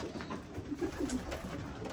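Racing and breeding pigeons coo softly nearby in a loft, a few low throaty calls over faint background ambience.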